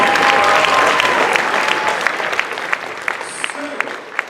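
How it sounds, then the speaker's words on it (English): A convention crowd applauds cosplayers during a charity auction, a loud broad burst of clapping that gradually thins into scattered claps toward the end. "How about a huge round of applause for all our amazing cosplayers?"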